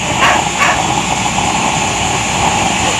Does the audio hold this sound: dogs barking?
yes